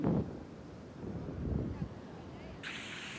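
Wind gusting across a seashore beside a temple, a steady low rumble buffeting the microphone throughout, with a brief brighter hiss near the end.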